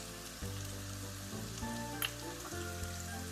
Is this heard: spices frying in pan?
yes